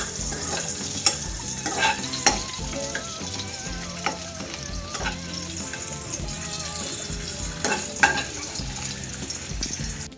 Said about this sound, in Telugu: సో ఎగ్స్ని కూడా నేను వేయించేసుకుంటున్నాను